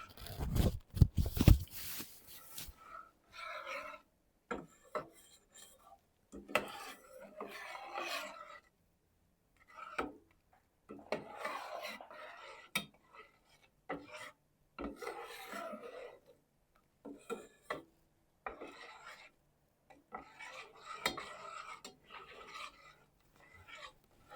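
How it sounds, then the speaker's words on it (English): A spoon scrapes and rasps steadily around a pot of simmering homemade chocolate syrup, in repeated close stirring strokes with short pauses, alone and fairly quiet. "you have to constantly stir because you don't want the chocolate to burn"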